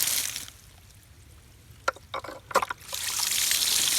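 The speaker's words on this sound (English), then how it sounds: "as I push down, it creates enough water." Water trickles and spurts in short bursts from a hand pump filter, with steady broadband hiss at the start and end and a quieter stretch of irregular dribbling splashes in the middle.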